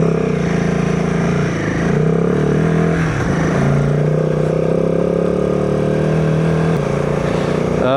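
Classic old Honda 50cc motorcycles ride off outdoors near a mountain lagoon, with a steady small-engine drone that holds at a constant level and rises slightly as they pull away.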